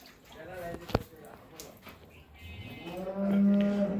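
Red Friesian cattle on a farm in Bogura let out a low, drawn-out moo near the end, following a sharp knock and quieter lowing in the barn; a voice can be heard faintly in the background.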